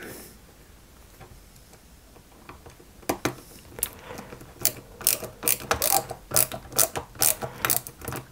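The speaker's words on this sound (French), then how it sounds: "Il va falloir que je serre un petit peu." Small screws being tightened into a 1961 London Routemaster RM857 bus scale model during assembly, heard as a run of close, crisp ratcheting clicks that start sparse and grow denser and louder toward the end, with no talking.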